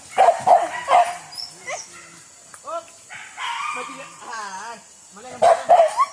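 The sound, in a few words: hunting dogs barking during boar hunt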